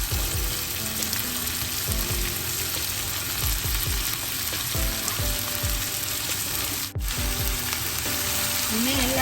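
Broad beans and tomato frying in a pan, a loud, steady sizzle close by with occasional stirring scrapes and one brief break, no talking.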